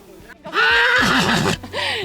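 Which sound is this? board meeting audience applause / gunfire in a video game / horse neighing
horse neighing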